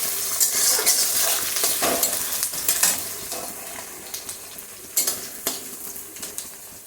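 Cumin seeds and chopped onions fry in oil for chicken dum biryani, giving a loud, hissing sizzle close by, punctuated by repeated spatula taps and scrapes against the pan.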